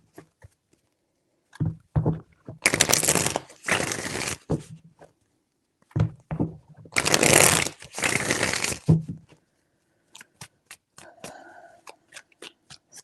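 Tarot cards are shuffled by hand in two long riffling bursts, close and fairly loud, with a few taps and card handling between them and soft scattered clicks at the end.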